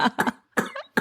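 A burst of three or four harsh, close coughs in quick succession, with short silent gaps between them.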